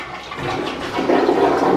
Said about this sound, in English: I'll just flush it.